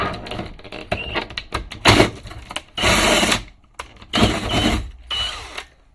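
Several short bursts of a power drill whirring while building an indoor growing bed, stopping and starting irregularly, with clunks and handling noises between runs, close by.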